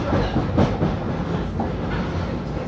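A London Underground Jubilee line 1996 stock train pulls into Stratford, loud rumbling wheels and clattering rail joints with a brief metallic squeal, no voices.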